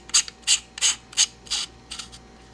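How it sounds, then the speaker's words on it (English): Castle nut being tightened on an AR-15 buffer tube fitted with a Spikes Tactical ST-T2 heavy buffer: six or seven short, sharp metallic ratcheting rasps in a steady rhythm, close and fairly loud, with no talking. "the only thing you have to do now is to tighten the castle nut."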